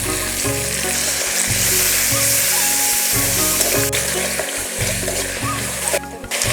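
Ground paste of coriander, cumin, dried and green chilli fries loudly in hot oil, a dense continuous sizzle with spattering and the scrape of stirring, steady from start to finish.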